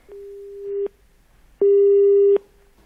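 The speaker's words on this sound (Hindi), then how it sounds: "मुझे लगता है कि फोन लाइन जो है वो उससे हमारा संपर्क टूट गया है।" Telephone busy signal after a phone line drops during a live TV news interview: two steady beeping tones, the second louder, near and alone with no talk.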